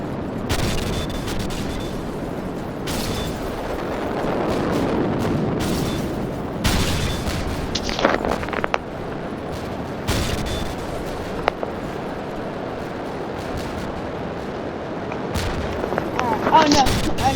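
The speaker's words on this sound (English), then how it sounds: "Drop the bombs." Bombs dropped from aircraft explode in the War Wings combat game, a run of heavy booms and crackling blasts over a steady rumble of engine and battle noise.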